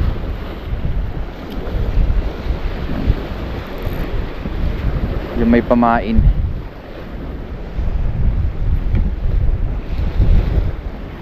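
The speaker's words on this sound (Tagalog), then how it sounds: "At ngayon po ay malakas po ang hangin dahil nga po amihan." Strong northeast monsoon wind roars steadily across the microphone beside a river, a loud, broad rushing that gusts and never lets up, with someone talking briefly over it.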